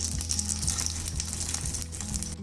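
Burger buns toast in hot oil with mustard seeds in a pan, giving a loud, dense, steady sizzle with fine crackling and popping throughout. Close and continuous, with no speech.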